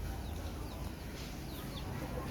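Black-and-red striped chickens clucking softly at a farm yard amid steady outdoor background noise, with faint repeated calls scattered through the short stretch.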